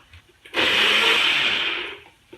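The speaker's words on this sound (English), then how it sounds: "I'm going to go ahead and give this a quick pulse just to emulsify" Blender pulsing a flax egg with mustard and Bragg's aminos, one loud steady whir of about a second and a half that starts abruptly and winds down, close by with no talk.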